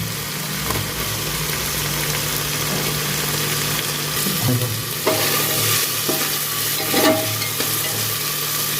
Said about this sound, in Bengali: পেঁয়াজ আদা রসুন ভালো করে পেস্ট ভেজে নেবো।